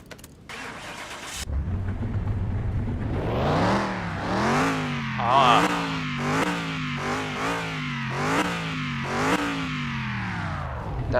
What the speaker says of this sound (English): We'll go ahead and sit in it, and we'll take a listen to the engine real quick.